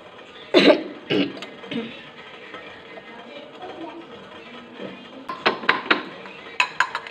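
Fresh ginger being crushed for tea, heard as a few heavy, dull thumps at the start, a quieter stretch of low kitchen noise, then a quick run of sharper knocks near the end.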